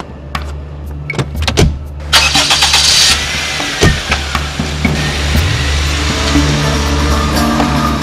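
A car engine cranks and turns over with sharp mechanical clicks, then settles into a steady, close idle rumble that runs to the end.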